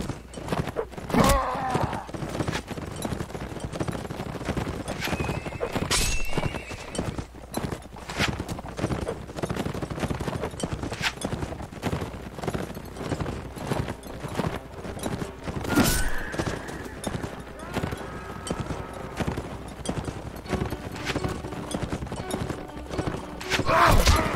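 Horse hooves clip-clop steadily in the video game Mount & Blade: Warband, a busy rhythmic trotting sound throughout with a couple of neighs and scattered battle noise, and some talk mixed in.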